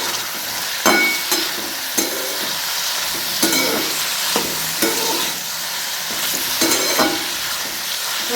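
Tinda vegetable frying in hot oil, a steady sizzle broken by repeated scraping stirs of a spoon against the pan, close and fairly loud, with no talking.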